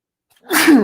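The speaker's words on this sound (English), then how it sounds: "when a sneeze is coming, we give it to you" A single sharp sneeze bursts out after a moment of near silence, loud and close.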